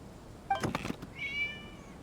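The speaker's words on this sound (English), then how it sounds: "It was just a cat." A single short video game cat meow sounds close and clear, preceded by a brief rustle, in an otherwise quiet setting.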